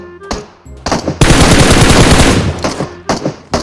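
Bots trade fire in PUBG: loud gunshots open with scattered single bangs, swell into a dense sustained burst of rapid fire, then trail off into a few more separate shots.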